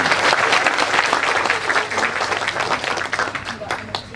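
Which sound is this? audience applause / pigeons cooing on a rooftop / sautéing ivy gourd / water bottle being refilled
audience applause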